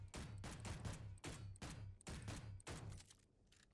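Golden pistol gunshots fired at a target dummy in the Space Engineers game, a rapid regular series of about eight sharp, loud reports with short thumping tails, close and alone, ending in a faint fading tail.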